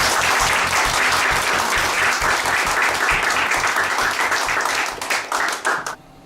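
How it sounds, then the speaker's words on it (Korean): Loud, dense applause from a congregation opens a lecture on First Corinthians, with clapping strong and even before it thins into scattered claps and stops near the end. "박수와 함께 강의를 시작하도록 하겠습니다."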